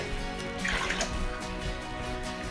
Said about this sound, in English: put some hot water inside, heat up the French press